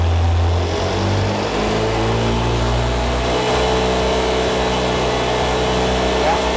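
A turbocharged car engine being tuned through its ECU runs near and loud with steady held revs and layered harmonic engine tones, then drops and surges again as the throttle changes. Someone speaks over it.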